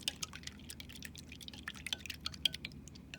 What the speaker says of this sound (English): The swishing around, again, represents the scrubbing of your hands